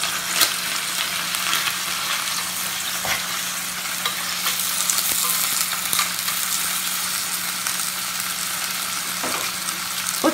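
Lamb shanks brown in a pan with large pieces of garlic, making a loud, steady frying sizzle that lasts throughout, broken by occasional clicks and scrapes of stirring, with no voices.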